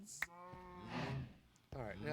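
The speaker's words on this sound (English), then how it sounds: "The cows are loud." Minecraft cows mooing loudly in the game, several drawn-out bovine lows in quick succession with brief gaps, close and clear over a quiet background.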